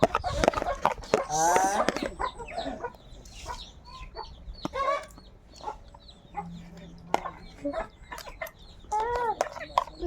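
Chickens cluck and squawk close by in short bursts, with a person calling out over them at the start.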